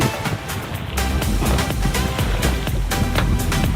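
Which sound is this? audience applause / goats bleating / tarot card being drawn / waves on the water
waves on the water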